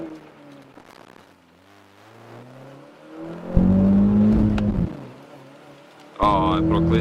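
A BMW with its ASC traction control switched off accelerates hard on a rain-wet road, wheels spinning. The engine note climbs steadily, then surges loud and close in two strong bursts.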